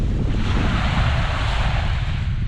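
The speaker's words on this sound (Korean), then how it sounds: "몽돌들이 파도에 휩쓸려 내려가면서 만들어내는 간지러운 소리" Waves wash over a pebble beach at Mojinyi on Hachuja Island, a loud, continuous rushing surf with gravelly hiss from rolling stones, mixed with wind buffeting the microphone and no voices.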